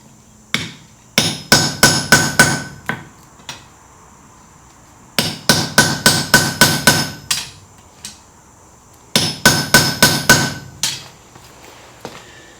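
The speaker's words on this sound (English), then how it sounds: "come in with that chisel and just cut a center line right there" Sharp, ringing hammer blows drive a chisel into hot steel to cut a centre line for a forged leaf. The strikes come in three rapid bursts of about six, each separated by short pauses, loud and close.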